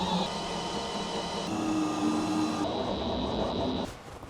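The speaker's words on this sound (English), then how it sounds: "Holes are drilled." A power drill bores holes into a Humvee, giving a steady, loud motor whine that holds for about four seconds, shifts pitch slightly partway through, then cuts off abruptly.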